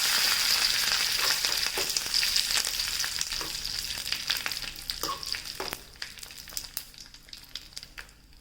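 Mustard seeds and a little fenugreek crackle and sizzle in hot coconut oil in a pan, a steady close frying hiss dotted with sharp pops that thins toward the end.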